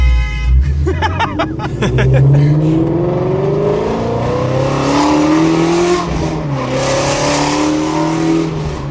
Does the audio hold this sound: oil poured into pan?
no